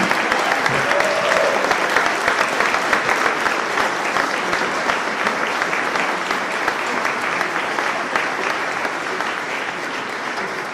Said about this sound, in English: round of applause for President of the United States of America